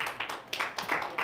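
A small group clapping for a quilt at a quilting retreat show-and-tell, a short burst of applause lasting about a second with no talking.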